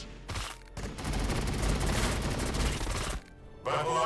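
Dense bursts of rapid gunfire from a Warhammer 40,000: Battlesector battle scene, a loud continuous fusillade lasting about two seconds, with shorter volleys before and after it.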